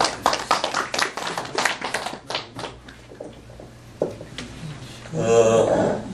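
At a Korean Confucian academy restoration ceremony, a scattered group claps in short irregular bursts that thin out, followed by a louder rustling noise near the end, with brief talk in between.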